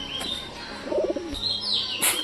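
Newly bought pet birds chirping nearby in short bright bursts, with a soft cooing flutter in the middle and a sharp high call near the end.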